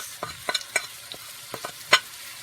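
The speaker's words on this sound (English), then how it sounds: "we'll just give that a stir" A utensil stirs cumin and coriander in a hot cooking pan. Several sharp scrapes and taps ring out over a soft sizzle, close and fairly quiet, with one louder scrape near the end.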